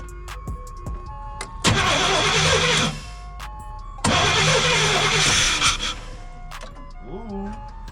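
A 1989 GMC Sierra StepSide pickup engine cranking after a fuel pump replacement, heard as two loud, close bursts of starter grinding separated by a pause, with brief voice sounds between and after.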